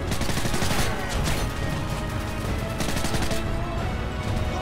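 Gunfire in the video game Modern Warfare 3 crackles in dense, rapid bursts and volleys, loud and continuous throughout, with no talking over it.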